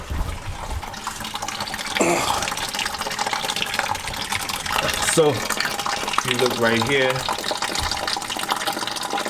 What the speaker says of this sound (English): What you do is you twist that knob, and boom, the coolant will start draining.